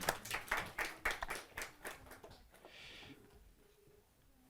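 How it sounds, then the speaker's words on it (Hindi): Audience at a Hindi kavi sammelan claps to welcome a poet, with several loud bursts of hand claps in the first two seconds that quickly thin out and fade into quiet room noise. "जोरदार तालियों के साथ उनका स्वागत करें"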